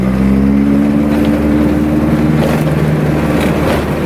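A damaged Honda EK being driven with a cold engine and no coolant, its motor droning loud and steady close up with a low hum and faint rattles over road noise.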